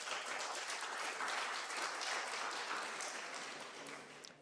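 Audience members at an international conference session applaud themselves together, a steady wash of clapping that holds strong for several seconds before tapering off toward the end.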